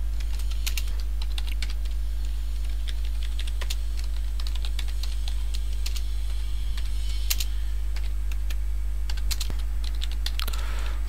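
Continuous clicking on a computer keyboard during app development work, with irregular close keystrokes and bursts of typing over a steady low hum, no voice.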